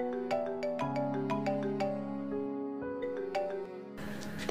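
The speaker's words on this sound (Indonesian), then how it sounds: "Telepon dari siapa bang?" A phone ringtone for an incoming call plays as a bright, melodic run of repeated electronic notes over a steady sustained tone, close and clear, ending in a brief burst of noise.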